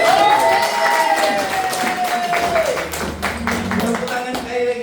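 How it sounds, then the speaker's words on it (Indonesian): Audience clapping for a performing group at a gathering, mixed with a sustained tonal voice or sound and some scattered taps and thumps, with the crowd's applause continuing throughout at moderate loudness. "Oke, Bapak Ibu, tepuk tangan untuk kelompok Liga."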